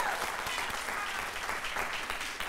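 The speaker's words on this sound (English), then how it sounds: "Y'all get a girl a bad round of applause right there." Audience at a Black History trivia event claps for a contestant, a dense, lively round of applause with distinct individual claps standing out, moderately loud and steady throughout.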